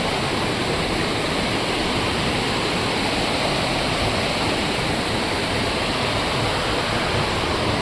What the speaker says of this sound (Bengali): আর ঠিক তার পাশেই এরকমভাবে নদী বয়ে যাচ্ছে।